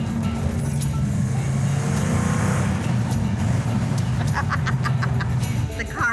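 A 1970 Plymouth Road Runner's engine roars close by under hard acceleration, a loud steady low drone holding for several seconds with some clicks and rattles near the end.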